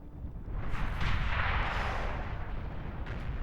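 Bombers unloading in the real-time strategy game Beyond All Reason: a sustained, dense rumble of overlapping explosions with muffled booms, steady and loud, and no speech.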